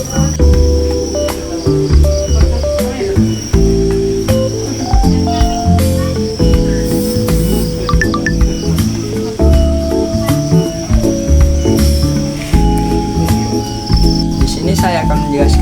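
Farmed crickets in breeding enclosures chirp loud and close in a dense, continuous chorus of overlapping trills that runs throughout with no pause.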